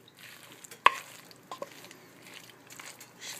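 Scrambled eggs cook in a hot pan with a soft, low sizzle, broken by scattered scraping and clicking as a utensil stirs them, including one sharp knock.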